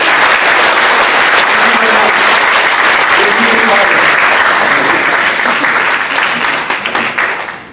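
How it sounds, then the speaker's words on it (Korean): A church congregation breaks into loud, sustained applause after a prayer at a Sunday service, a dense, continuous wash of clapping that fades into a few scattered claps at the end. "우리 함께 격려하는 의미로 큰 박수"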